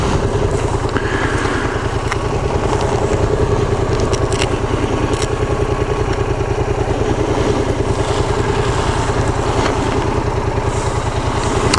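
Yamaha FZ-07 motorcycle exhaust heard from inside the rider's helmet on canyon roads near Piuma and Mulholland, a steady loud throbbing engine drone with wind rush, sustained throughout.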